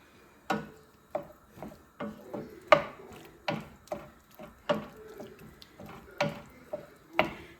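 A spoon stirs garlic into a pot of broccoli and macaroni, giving a string of distinct knocks and clicks, roughly one every half second, fairly quiet and close with no talking.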